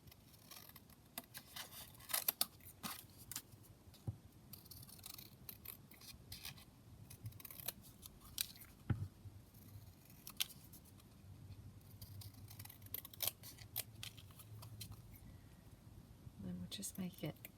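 Paper is cut with scissors to make a craft tag, a series of faint, close snips and crisp clicks spread across the stretch while a person talks quietly.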